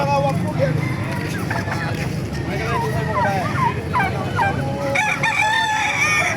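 Sweater gamefowl roosters crow several times in overlapping calls, close and loud, with clucking and voices chattering in the background.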